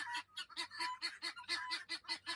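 A flock of geese honking repeatedly in a busy, overlapping chorus, loud and close, with rhythmic bursts of calls and no talking.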